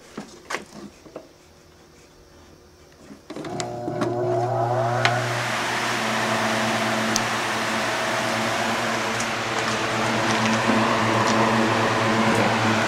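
A homemade box fan comes on after a few seconds of quiet handling noises, then settles into a steady, loud whooshing rush over a constant motor hum.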